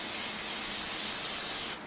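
Non-stick cooking spray hisses steadily from an aerosol can into a baking dish, a close, continuous spray lasting nearly two seconds before cutting off abruptly.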